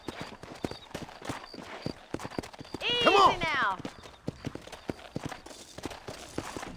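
Horse hooves clip-clop at a steady walking rhythm while riding on a ranch in the video game Red Dead Redemption, with a brief whinny in the middle and a voice speaking over the hoofbeats.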